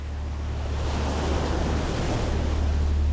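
Ocean surf rolls onto Playa Grande beach in Guanacaste, a steady loud wash of breaking waves building slightly, with wind buffeting the microphone throughout.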